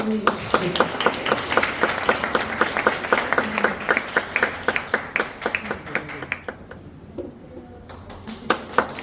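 An audience at a labor-movement memorial unveiling ceremony claps in a steady rhythmic beat, loud and near, the unified claps thinning briefly before resuming.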